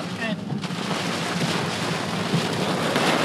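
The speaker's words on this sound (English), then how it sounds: "We're in a storm." Heavy rain from an intense storm roars steadily and loud, a dense wash of downpour filling the air without letup while people react excitedly nearby.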